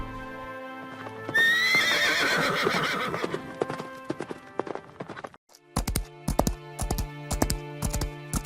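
A horse neighs loudly, then its hooves clatter in a fast, close, rhythmic gallop with no voices over it.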